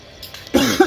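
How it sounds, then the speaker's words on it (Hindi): A man coughs twice, harsh and close, the second cough coming right after the first in a short burst following a quieter stretch. "बड़ी खांसी है।"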